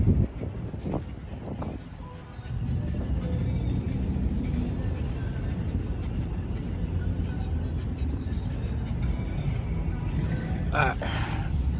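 A Dodge Charger cruises with a steady low rumble of engine and road noise heard from inside the cabin, continuous and moderately loud after a short pause near the start.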